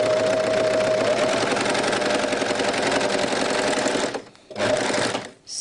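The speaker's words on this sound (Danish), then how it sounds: "Så hopper vi tilbage til symaskinen." A sewing machine stitches a ribbed V-neck neckline in a fast, steady mechanical whir, running continuously up close before pausing briefly twice near the end.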